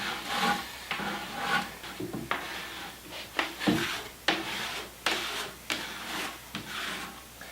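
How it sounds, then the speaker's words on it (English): A plastic scraper drags excess wax off a snowboard in repeated firm strokes, a steady rhythmic rasping and scraping at close range. "start scraping down the board to take off the excess"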